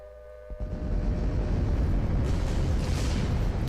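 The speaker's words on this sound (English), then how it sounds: "so let's go with our carpet bombing" Carpet bombing in the card game KARDS sets off a deep, sustained rumbling roar of explosions that swells in after a quiet low hum and stays loud, with layered booming blasts blurring together.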